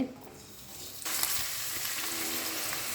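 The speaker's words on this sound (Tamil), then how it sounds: "அப்படி எண்ணெய் சூடாகிடுச்சு. சின்ன வெங்காயம், கொஞ்சமாக பூண்டு" Small shallots and a little garlic are dropped into hot oil for a sambal. A quiet pan suddenly bursts into a loud, bright sizzle that holds steady to the end.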